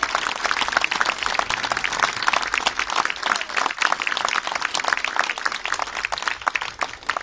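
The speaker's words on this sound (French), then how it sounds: "Et je vous demande vraiment de les applaudir." Audience at a 2017 French legislative election campaign headquarters applauding the campaign team, dense steady clapping throughout at close range, with no voices standing out.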